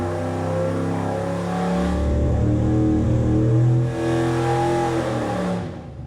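Car engine fitted with a 500 CFM 2-barrel carburetor in place of a 450 CFM 4-barrel on an open-plenum intake manifold, revving up loudly and close, the pitch climbing through a sustained rise before easing off near the end.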